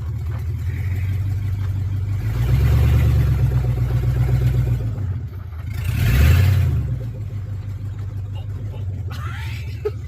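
An abandoned Silverado mud-rig truck rumbles along while driving, its engine droning steadily and swelling in two louder revving surges, loud and close throughout.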